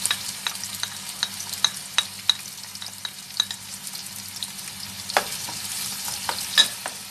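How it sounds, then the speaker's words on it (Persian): Diced onion frying in oil, a soft steady sizzle punctuated by repeated sharp clicks of a spoon stirring against the pan. "یکیشم نگینی خورد کردم داخل روغن سرخ میکنم"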